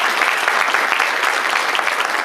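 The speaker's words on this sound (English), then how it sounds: "Give them some noise. Clap it up." Dense crowd applause at a high school football signing day celebration, a steady wash of many hands clapping at close range without a break.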